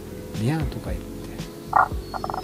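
Tago's brown frog calls from a wooded mountain path, giving a couple of short, rising, cat-like croaks early on, with later clicks and rustles nearby at moderate loudness.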